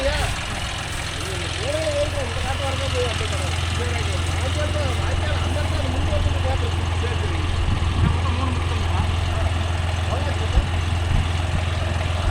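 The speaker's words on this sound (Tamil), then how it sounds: "வண்டி வெளியே வருது." A John Deere 5405 CRDI 4WD tractor's diesel engine runs steadily as it drives out after black rice harvesting, a continuous low drone with mechanical rattle holding at an even level throughout, and no voices over it.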